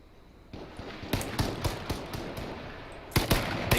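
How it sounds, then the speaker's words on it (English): Gunfire in a video game arena battle in an open field, a quick run of sharp cracking shots followed by a louder double burst near the end, over a low ambient bed. "Dingus Khan firing shots at Memento's in the open field"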